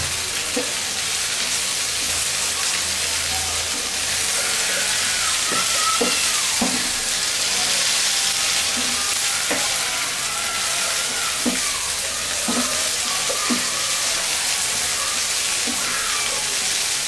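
Okra (bhindi) frying in oil as a simple spiced bhaji without onion gives a steady, close, dense sizzle throughout, punctuated by intermittent sharp clicks and scrapes of a spoon stirring in the pan.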